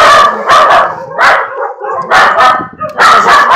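A flea-ridden puppy yapping in loud, close, high-pitched bursts, several barks in quick groups separated by short pauses.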